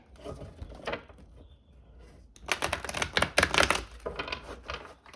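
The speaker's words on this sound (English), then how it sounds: "Okay, we'll do one last shuffle." Dense bursts of rapid riffling and clicking from cards being shuffled, close by, with a quieter stretch before a louder, busier flurry.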